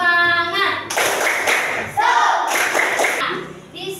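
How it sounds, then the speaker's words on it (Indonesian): Schoolchildren in a classroom perform the tepuk semangat spirit clap, a loud rhythmic pattern of sharp hand claps in short bursts, with chanting children's voices between the beats. "ibu minta kalian tepuk semangat dulu"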